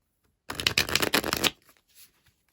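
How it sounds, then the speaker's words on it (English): Tarot cards are shuffled in one brisk riffling burst of about a second, close and crisp, followed by a few faint handling rustles. "I want to get a couple of tarot cards before I get some more message cards."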